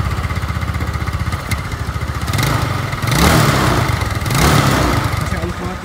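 A Yamaha Mio Sporty bored up to 155cc runs at a smooth steady idle nearby, its engine swelling a little louder twice as the throttle opens slightly, with faint background noise.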